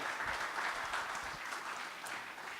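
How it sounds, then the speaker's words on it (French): An audience at a public conference session applauds. The clapping is faint and steady for the whole short stretch, with no talk over it. "On vous applaudit."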